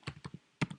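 A few quick keystrokes on a computer keyboard, two short clusters of soft clicks with a brief pause between them, quiet and close.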